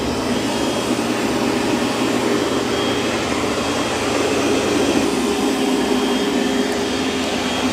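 Continuous whirring drone of a Roborock robot vacuum and mop cleaning a floor, steady and close, with a constant motor hum and broad suction hiss, no talking.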